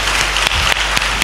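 A church congregation claps in praise, a dense, loud burst of applause with a few sharper accents, sustained across the short moment.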